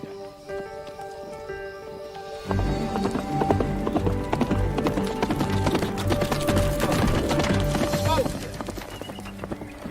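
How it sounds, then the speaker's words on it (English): Horse hooves clip-clop steadily on a Western ranch, joined by a neigh, after a quieter stretch of music; the hoofbeats are close, rhythmic and loud, with voices speaking over them. "Hey, Will, that girl sure knew what she was doing when she bought that big black horse."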